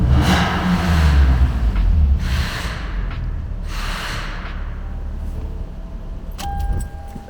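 Toyota 2JZ engine in a poorly running car: loud cranking and starting, then a few revs that rise and fall, with a short metallic rattle near the end and no speech.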